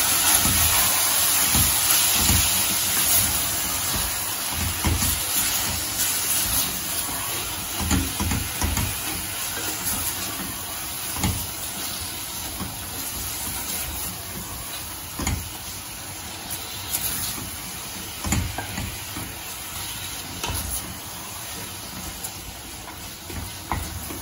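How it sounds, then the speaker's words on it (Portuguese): Ground beef with seasoning and salt sizzling steadily in a pan for couscous, a continuous hiss with occasional clinks of a utensil against the pan. "Agora eu vou refogar."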